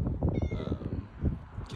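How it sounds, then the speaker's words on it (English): A cat outside a house gives a few close, loud meows in quick succession, with a brief higher cry near the end. "Cat's having a grand old time."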